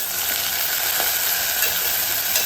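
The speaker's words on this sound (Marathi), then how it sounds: "तसे जे गाजर आहेत ते पण घालतो मी यामध्ये. पुन्हा परतून घ्यायचं." Onion, tomato and carrot sautéing in a pan for a mixed vegetable dish give off a steady, loud, close sizzle with no pauses and no talking.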